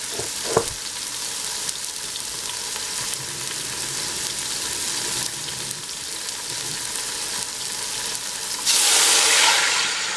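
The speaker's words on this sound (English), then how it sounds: "I'm going to add 1 cup of water" Water poured into a hot pot over a seared pork loin in an Instant Pot sets off a loud, steady sizzle and hiss lasting several seconds, with a brighter rushing burst near the end.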